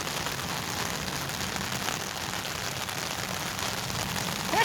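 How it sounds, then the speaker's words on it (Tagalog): Heavy rain drums steadily on an umbrella held beside a grave, a dense, unbroken hiss of drops close by with no voices over it. "Ayan oh, lakas ng ulan oh."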